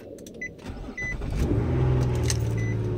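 A 2008 Nissan Altima 3.5 SE cranks and catches, its engine rising into a steady, close idle after a few clicks and jangling keys inside the car.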